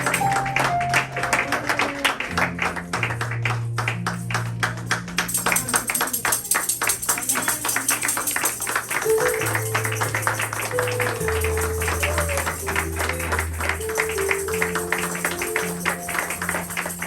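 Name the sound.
congregation applause and acclamations in church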